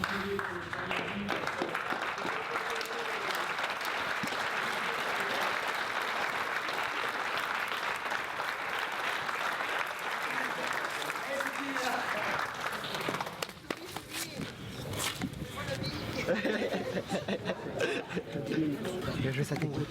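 Sustained audience applause after a combat sports demonstration, a steady dense wash of clapping for about thirteen seconds before thinning out, with chatter and voices mixed in toward the end.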